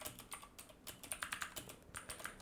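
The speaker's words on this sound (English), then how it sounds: "Let's take a blank document and here let's type something." Typing on a laptop keyboard, a quick irregular run of soft, close key clicks with no voices.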